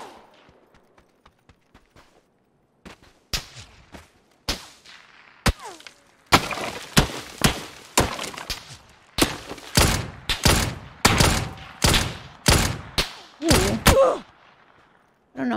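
Gunfire in the video game PUBG, with a patch-era Dragunov rifle in play: a few faint distant shots, then a quickening string of loud, sharp nearby shots in irregular bursts.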